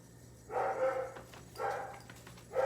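An indoor dog barks in short, loud bursts, three separate yaps spaced about a second apart over a steady low hum, with no talking.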